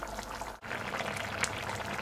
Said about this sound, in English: It has been bubbling away for about 15 minutes total now.